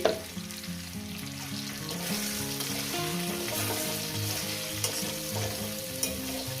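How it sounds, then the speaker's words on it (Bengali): Potato and spinach fry in a pan with mourala fish, giving a steady, close sizzle with occasional stirring scrapes and no talking. "এটাকে আমি ভালো করে ভাজবো মিনিমাম এটাকে আমি ভেজে দেবো"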